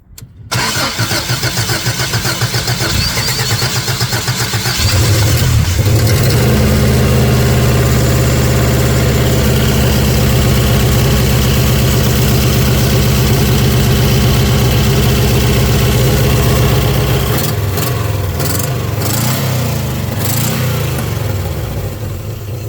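A 1986 Subaru Brat's engine cranks and catches, then settles into a steady, loud idle that drones on before dropping slightly near the end; no one speaks.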